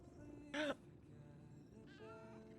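A cat in the game Lies of P lets out one clear, short meow, then a softer, longer second meow a moment later, over a quiet ambient game backdrop.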